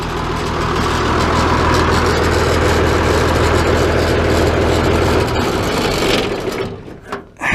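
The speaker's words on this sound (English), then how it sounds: "Shut the tractor off." An Oliver 575 tractor engine idles loud and steady at close range, its low rumbling drone holding for several seconds before sputtering, winding down and falling quiet near the end, with no talking.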